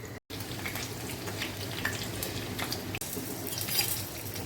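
Green chillies for mirchi bhaji fry in hot oil with a steady, even hiss that stays close and constant, broken by one brief drop, with no talking.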